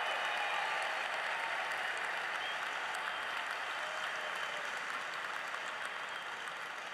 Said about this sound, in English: So give them a round of applause and to yourselves as well.